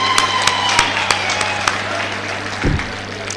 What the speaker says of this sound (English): he deserves one more round of applause